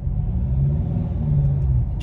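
A 2 litre Ford Ranger engine revs as the truck pulls away in traffic, a steady low rumbling drone held close and loud for a couple of seconds with no talk.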